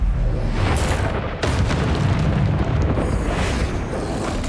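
Heavy explosive booms from the Bombarda spell in Hogwarts Legacy, loud and rumbling, with a sharp burst midway and a continuous roar of blasts and debris throughout.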